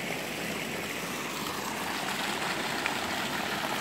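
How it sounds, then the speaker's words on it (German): Water pours steadily from an upper pool into a basin at a rest stop, a constant close splashing rush with no pauses and no voices. "hier kommt vom oberen Becken dann Wasser raus"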